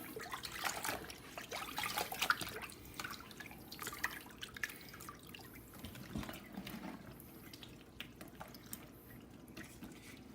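Water drips and trickles from animal hides, including squirrel and bobcat pelts, being rinsed after neutralizing, with scattered faint splashes and irregular drips over a quiet background.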